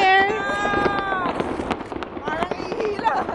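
New Year fireworks at Sky City, a stream of crackling pops and bangs under loud excited voices and a long rising cheer, with people talking and shouting throughout.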